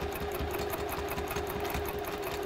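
Sewing machine stitching free motion quilting, a steady fast needle chatter running continuously and loud with no pauses, close up and without talk.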